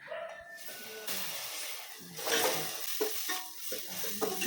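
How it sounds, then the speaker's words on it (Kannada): Garlic, onion and cabbage stir-frying with tomato, red chilli and soy sauces for egg fried rice, a continuous close sizzle broken by scraping strokes of a spatula against the pan. "ಗಾರ್ಲಿಕ್ ಆನಿಯನ್ ಬೊಕ ಕ್ಯಾಬೇಜ್ ನೆನ್ ಪೂರ ಅರ್ದ್ ಫ್ರೈ ಮಲ್ತೊಂದುಲ್ಲೆ"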